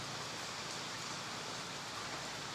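Heavy evening rain in Rayong, Thailand pours down in a continuous, dense roar of noise, unbroken and loud.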